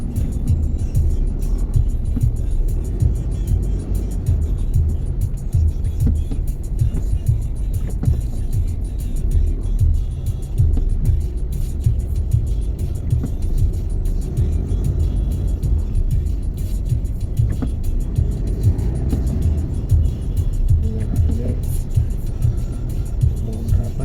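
Steady low rumble of cars and other vehicles crawling in one-way traffic at the Bekasi Timur toll road exit, continuous engine and road noise close by with no talk.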